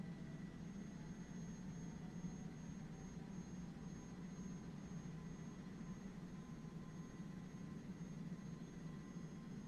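Steady, quiet low drone of a Canadair CL-415 water bomber's propeller spinning during engine start in MSFS 2024, a continuous even hum with faint higher tones and no talking.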